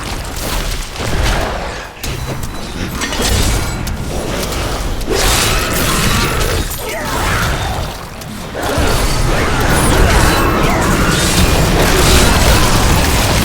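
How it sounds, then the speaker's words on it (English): Corpse Explosion skill going off repeatedly in Diablo 3 combat, a loud, dense barrage of blasts, crunches and clattering impacts that continues throughout with no pauses. "Corpse explosion is rather overpowered."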